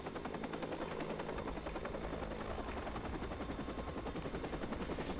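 Video game Watch Dogs: a helicopter's rapid rotor chop fills the scene alongside bursts of machine-gun fire, dense and continuous at a steady level.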